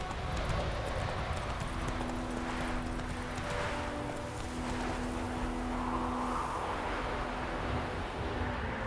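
Roach the horse's hooves clop along in The Witcher 3 on Nintendo Switch, a quiet steady gait under ambient game sound and faint music tones.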